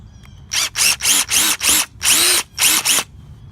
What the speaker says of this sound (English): So I'm just going to use my D-walk drill with a little bit on it.